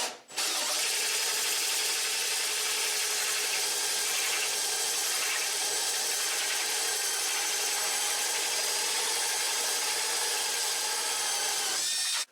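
Power drill boring holes through a cab panel on a 2021 Polaris General, a steady, loud, close whine that runs for about twelve seconds and stops abruptly.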